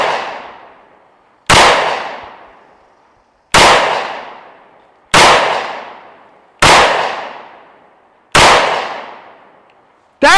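Loud, close .45 shots from an ATI Moxie FXH45 hybrid 1911 pistol, six sharp reports spaced about two seconds apart, each ringing out and decaying before the next.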